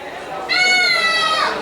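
A man in a comedy club audience vocally imitates a creaking door, producing a drawn-out, squealing, creaky whine of about a second over faint room murmur.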